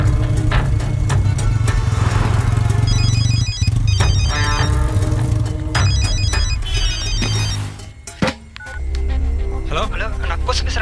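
A telephone rings repeatedly in a tense film scene, electronic ringtone trills recurring in bursts over a steady background hum, with brief sharp clatter near the end.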